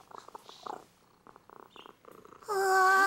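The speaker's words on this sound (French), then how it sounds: "Parce qu'il ronronne. Écoutez." A cat held in someone's arms purrs in soft, rhythmic pulses close by, then a louder sustained tonal sound takes over at the end.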